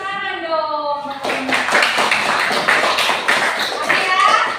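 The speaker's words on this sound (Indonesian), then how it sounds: "Tepuk tangan dong." Clapping in a classroom coaching session, a burst of many hands clapping in a steady patter after a short spoken request, with a few voices mixed in.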